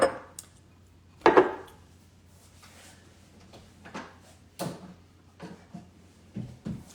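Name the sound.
stirring Alfredo sauce in a pot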